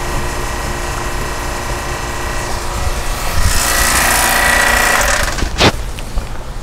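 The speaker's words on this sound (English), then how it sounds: "I'll go ahead and turn off the pump." A vacuum pump on a physical vapor transport furnace system runs with a loud, steady mechanical rattle and whine, then its tone shifts and a sharp clunk marks the shutdown near the end; no talking.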